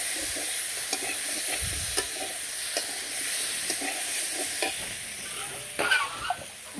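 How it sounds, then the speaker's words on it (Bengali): Papaya and potato stir-fried in oil with turmeric, chili, mixed spices, green chili and salt, a steady close sizzle with scraping stirs of a utensil and occasional sharper clinks; nobody speaks. "তেল দিয়ে একটু পেঁপে আর আলুটা ভাজাভাজি করে, তারপরে হলুদের ফাঁকি, মরিচের ফাঁকি, পাঁচমিশালি ফাঁকি, কাঁচামরিচ, লবণ সব কিছু দিয়ে ভালো করে কষিয়ে নেবে নিচ্ছি"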